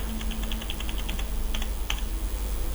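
Keys tapped on a computer keyboard while entering a hostname into a Linux server configuration file, a quick run of light clicks, then a few isolated strokes, close and fairly quiet with no talking.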